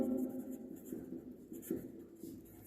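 A pen or marker scratches across a board or paper in a maths lesson, several short irregular strokes with brief pauses, close and fairly quiet, with no speech.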